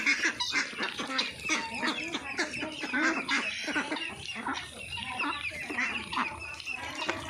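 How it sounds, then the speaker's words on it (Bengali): Ducks on a village duck farm, a mix of three-month-old birds and twenty-day-old ducklings, making a busy, continuous chorus of overlapping quacks and honks at moderate distance. "আমাদের কতগুলি হাঁস আছে দেখুন।"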